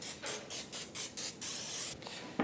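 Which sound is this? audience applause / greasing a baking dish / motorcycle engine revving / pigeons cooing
greasing a baking dish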